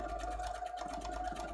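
Sewing machine running across cosplay fabric, a close, steady humming whir with a fast even stitching pulse throughout the short stretch.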